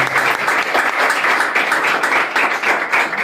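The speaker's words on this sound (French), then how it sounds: "Applaudissez, s'il vous plaît." An audience applauds steadily and loudly at a French-language talk on referendums, a dense, even clatter of many hands that fills the whole stretch.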